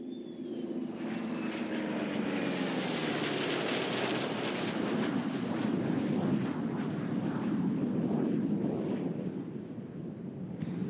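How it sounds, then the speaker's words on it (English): An F-35C and an FA-18F Super Hornet fly a low flat pass at 300 feet over a naval air station air show, a loud, continuous jet roar that builds and holds, then fades slightly near the end. "Approaching in from the left at 300 feet, the F-4E Corsair F-35 Charlie and the FA-18 Foxtrot Super Hornet for the flat pass"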